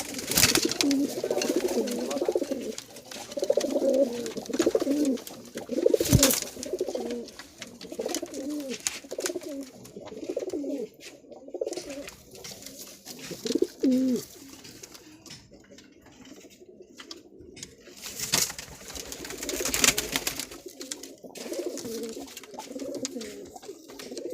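Kaldoma and Kalasabuj pigeons coo in a loft, their repeated throaty, rolling calls close and fairly loud. Several birds overlap in long bursts with brief pauses, and sharp knocks and clatters break in now and then.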